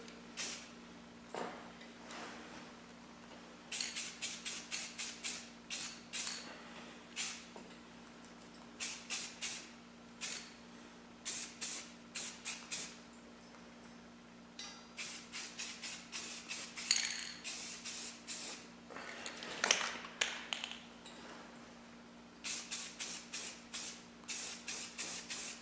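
Aerosol spray paint hisses in repeated short bursts onto a KLX 300 Tusk rack, coating it satin black; steady rhythm of quick passes, close and fairly loud, with a low hum underneath.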